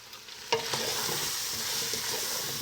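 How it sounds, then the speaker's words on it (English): Flour is stirred into a simmering beef stew to make a roux, giving a soft continuous sizzle with a spoon scraping and clinking against the pot, close and moderately quiet. "Again, I'm making a roux."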